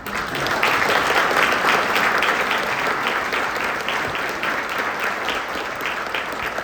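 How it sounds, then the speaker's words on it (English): A hall full of guests at a community foundation giving celebration breaks into loud, sustained applause, with dense clapping holding steady throughout. "If we could give them a round of applause."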